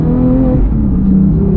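A 2018 Porsche 911 GT3 six-cylinder engine hums and revs steadily at close range, a deep continuous throaty drone with no voices over it.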